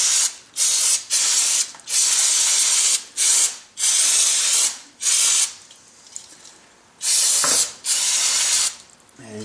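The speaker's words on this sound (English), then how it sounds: "Okay, I just wanted to spray that down." Aerosol brake cleaner sprayed onto the rear brake shoes of a 2000–2005 Dodge Neon during hub work, loud close hissing bursts, about eight of them, each lasting roughly half a second to a second with short gaps between.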